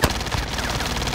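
Rapid video game gunfire rattles off in a quick automatic burst, loud and close, with a sharp initial crack.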